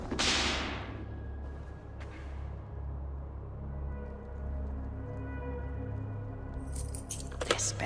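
Keys jangling in Assassin's Creed Valhalla, a short metallic rattle up front followed by quieter game ambience with a low hum, and another bright clinking flurry near the end.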